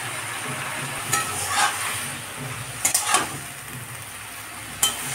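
Fried eggplant and potato being stirred into red amaranth greens in a pan, a steady soft sizzle with a few scraping and clinking stirs rising above it at intervals.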